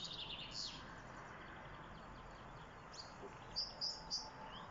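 A blackbird outdoors gives a few high, thin chirps, one early and a short cluster near the end, faint against a quiet background.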